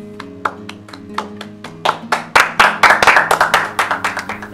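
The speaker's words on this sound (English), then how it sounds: "Clapping is in order" Delegates at a Model United Nations session clap after a resolution passes. A few scattered claps quickly swell into a quick, rhythmic round of applause over a low steady hum.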